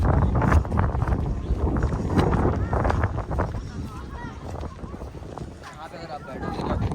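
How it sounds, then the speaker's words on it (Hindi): Gusty wind buffets the microphone on a hilltop viewpoint at Nandi Hills near Bangalore, a constant rough low rumble and rush with people talking underneath. "पहाड़ के ऊपर ये बैठने वाला सीट और इतना अच्छा हवा चल रहा है ना"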